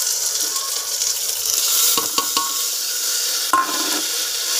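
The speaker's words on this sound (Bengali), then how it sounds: "এবার এই ভিজিয়ে রাখা ডালটা দিয়ে দেবো এর মধ্যে।" Soaked red lentils (masoor dal) tipped into a hot pan give a steady, bright sizzle, with a few light clinks of a spoon or utensil against the pan partway through.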